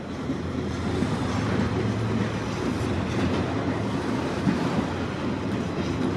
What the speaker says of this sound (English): Symbol on this train is CPKC 106, which originates in Vancouver, British Columbia and terminates in Toronto, Ontario